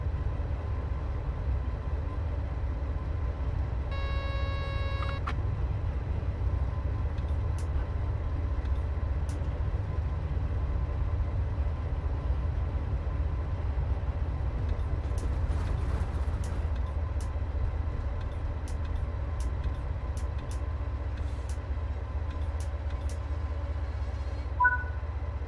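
Train Sim World 4 train on the Maintalbahn braking to a stop, a steady low rumble of rolling wheels and brake noise with faint clicks and a brief tone, no talking.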